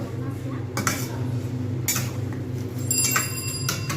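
A metal lid set down on a cooking pan while ridge gourd and potatoes fry in poppy seed paste: a few sharp clanks, the loudest near the start and end, over a steady low kitchen hum.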